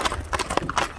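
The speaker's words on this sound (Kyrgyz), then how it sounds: "Чиста кыргыз жылкы." A Kyrgyz horse's hooves clip-clop in a quick, close run of several sharp strikes in about a second.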